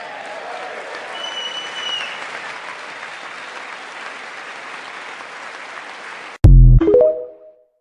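Applause from an audience at a political speech, a broad steady wash of clapping that holds for several seconds and then cuts off abruptly, followed by a short loud low-pitched burst.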